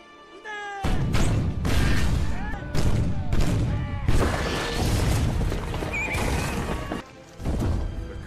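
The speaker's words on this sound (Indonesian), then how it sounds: "Awalnya pasukan Omura melangsungkan tembakan kepada pasukan Katsumoto" A loud, chaotic film battle between samurai and army troops: repeated bursts of gunfire and crashing blasts in quick volleys, with horses whinnying amid the din.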